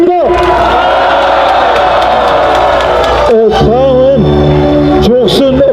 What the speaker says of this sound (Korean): 여러분 다시 한번 이정민 전 차관께 감사의 박수 부탁드립니다